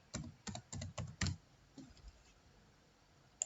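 Typing on a computer keyboard, a quick run of about six close, crisp key clicks followed by a couple of softer taps and then quiet.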